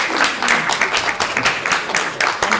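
A gathered audience of colleagues claps together at the close of an academic day, dense overlapping handclaps with distinct sharp slaps, fairly loud and near, with no talking over it.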